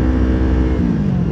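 Motorcycle engine and wind roar continuously while riding along a road on a motovlog ride, a loud, steady close drone with slight shifts in pitch.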